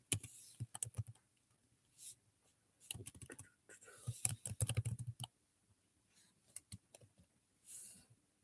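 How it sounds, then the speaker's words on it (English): Keystrokes on a computer keyboard come in irregular bursts and pauses, quiet and close, as a message is typed into a live chat during a livestream Q&A session. "I'm going to type something in the live chat here."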